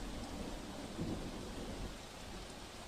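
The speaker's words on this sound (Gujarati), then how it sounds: "આ પાણીનો ખડખડ અવાજ ક્યાંક ડરામણો સાબિત થઈ રહ્યો છે." A dense, continuous roar of rushing floodwater from heavy rain filling a government office ground in Amreli, broad and churning, with a low rumble underneath and no voices.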